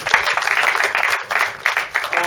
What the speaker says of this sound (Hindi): हम उनके लिए भी तालियां बजाएंगे।